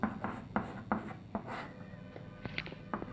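A pen scratches across a page in short, quick strokes and taps, close and faint, as a math solution about linear equations is written out.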